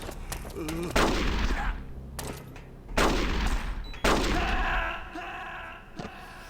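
Heavy gunfire in a video game: three loud, booming shots, each at least a second apart and each trailing into rumble, with a ringing tonal layer after the last blast and constant game ambience under everything.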